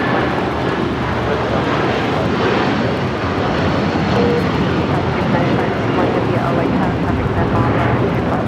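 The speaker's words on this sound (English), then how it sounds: "This is United Airlines 221 taking off to Newark on the 757-300." A United Airlines Boeing 757-300 takes off at Los Angeles International Airport, bound for Newark, with a loud, broad, steady jet engine roar that fills the whole stretch and stays constant. A voice talks faintly underneath.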